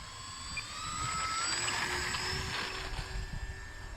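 Dynam Grand Cruiser V2 twin-motor RC plane on 3S, electric motors and propellers whining steadily in flight, a sustained buzzing drone with shifting pitch that swells and fades slightly as it passes, no talking.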